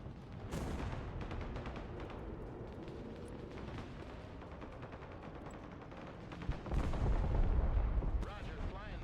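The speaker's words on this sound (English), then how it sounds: "MLRS ready to fire. Rocket artillery scanning by." MLRS rocket artillery fires in the Broken Arrow multiplayer video game with a rolling barrage of booming launches and rumbling blasts. A heavier, louder burst of deep explosions swells near the end.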